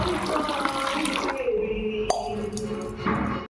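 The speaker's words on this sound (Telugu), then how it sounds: "ఇంకా వాటర్ కూడా ఫ్రీగా పోసుకుందాం" Water pours into a container of buttermilk for spiced masala majjiga, a steady splashing trickle close by that runs for a few seconds, pauses briefly and then resumes, ending with a faint clink.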